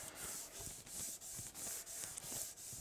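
WD-40 is used while rust is buffed off a lathe, giving rhythmic, faint back-and-forth rubbing strokes that repeat about three times a second, close up and alone.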